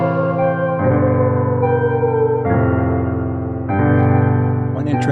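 Layered electronic music with sustained chords, a lead melody and a long held pad note sounding together, steady and loud, with chord changes every second or two and no talking.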